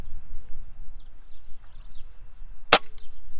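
A Benjamin Marauder air rifle fires a single sharp, close shot in an otherwise quiet setting, with faint background noise before and after.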